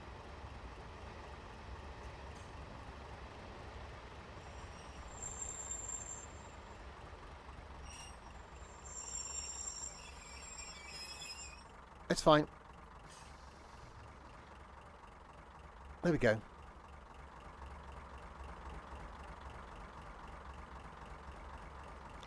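A Class 142 Pacer diesel railcar in Train Sim Classic idles with a low, steady engine rumble under quiet ambient noise, broken by two short, loud hissing bursts like air brakes and a few soft clicks.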